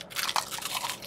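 Biting into crunchy fried chicken from Gus's World Famous Fried Chicken: a quick burst of loud, close crackling crunches, with no talking.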